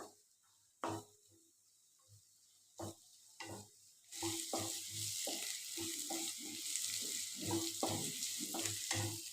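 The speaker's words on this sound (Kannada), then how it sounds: "ಈರುಳ್ಳಿ, ಶುಂಠಿ ಬೆಳ್ಳುಳ್ಳಿ ಪೇಸ್ಟ್ ಎಲ್ಲ ಹಸಿ ವಾಸನೆ ಹೋಗೋ ತನಕ ಚೆನ್ನಾಗಿ ಫ್ರೈ ಮಾಡ್ಕೊಳ್ಳೋಣ" Onion with ginger garlic paste fries in a pan for egg masala: a few isolated stirring knocks, then a steady, fairly quiet sizzle from about four seconds on, punctuated by repeated spatula taps.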